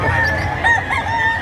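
A rooster crows at a native chicken market in Calumpit, Bulacan, its drawn-out tonal call standing out over a steady market hubbub, with no speech.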